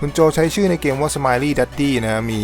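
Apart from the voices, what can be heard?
No distinct noise like a dog, phone or traffic.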